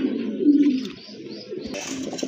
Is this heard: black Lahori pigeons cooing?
yes